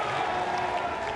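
A crowd at a Mosconi Cup pool match roars and claps in a steady, dense wash of applause and cheering, loud and close throughout the brief moment.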